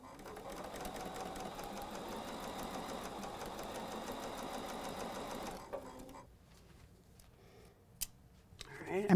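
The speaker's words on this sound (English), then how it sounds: "Let's go sew that." A sewing machine runs steadily for about six seconds, stitching a seam on a quilt pillow gift block, then stops, leaving a quiet room with a few faint handling clicks and a sharp tap near the end.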